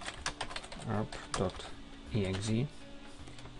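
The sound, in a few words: typing on a computer keyboard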